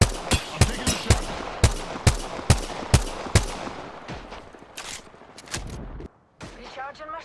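Apex Legends gunfire rattles in a rapid series of sharp, loud shots, then breaks into scattered bursts and a brief pause before a final burst.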